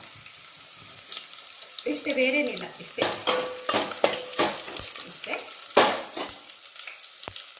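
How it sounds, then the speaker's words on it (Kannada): Mustard seeds crackle and sputter in hot oil for a tempering, with sharp popping bursts over a frying hiss while a person talks briefly. "ನಾನು ಸ್ವಲ್ಪ ಸಾಸಿವೆ ಹಾಕಿದ್ದೀನಿ."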